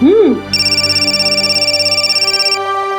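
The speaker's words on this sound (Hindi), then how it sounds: "आ गया फोन दामाद जी का, जा।" An electronic phone ringtone sounds in a steady pulsing pattern, loud and close, right after a brief voice at the start.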